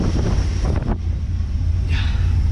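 A 1980 Corvette V8 with a new intake and carburetor idles steadily, a continuous low engine rumble close by with a brief dip partway through.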